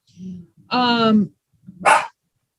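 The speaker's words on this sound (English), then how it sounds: "I have kids and dogs in the background here." Dogs bark in a house where children are also present, giving a few close yips and barks in a short, broken pattern with gaps between them.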